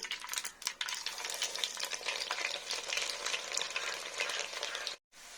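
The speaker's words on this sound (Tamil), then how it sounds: "பூண்டு வதக்கியாச்சு" Garlic sautés in a pan for Koduva fish curry, giving a fairly quiet but continuous crackle with light stirring. It cuts off abruptly near the end.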